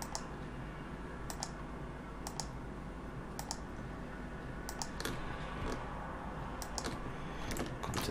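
A computer mouse gives sharp, faint clicks, some single and some in quick pairs, spaced irregularly while points are placed one by one in 3D modeling software, against a quiet hiss.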